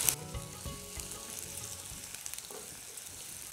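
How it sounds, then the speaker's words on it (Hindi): Onions and chopped garlic sizzling and frying in a pan over medium heat while making radish-leaf bhaji, a steady close crackle with occasional stirring scrapes, no talk. "मीडियम आंच पर प्याज भून रहे हैं।"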